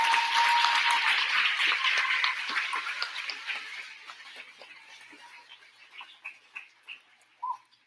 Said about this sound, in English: Boys and girls, please give a round of applause to Miss Font's class